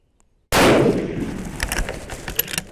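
A single sharp 6.5mm Creedmoor rifle shot cracks at an outdoor range after a moment of silence, followed by a long fading echo and faint background clicks.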